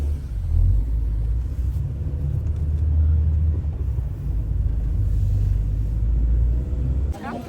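A car creeps through stop-and-go traffic in Barcelona, giving a steady low engine and road rumble that swells and eases throughout, with people talking faintly over it.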